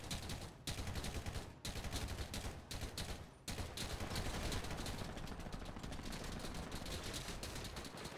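Sustained automatic gunfire rattles nearly nonstop in a video game roleplay server shootout with police, loud and close, with brief pauses between long bursts.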